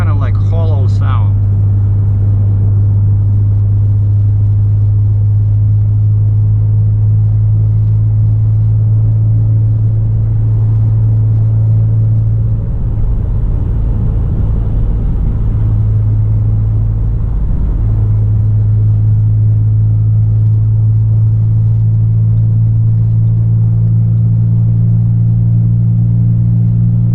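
Exhaust drone of a 2017 Ford Mustang fitted with a Hypertech performance tuner, heard from inside the car as a constant hollow low hum through the whole stretch, with a couple of brief dips.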